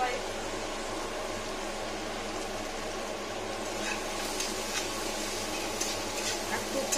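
Chopped garlic being dry roasted in a pan, giving a steady, even sizzle with light stirring and scraping throughout, while a person talks over it.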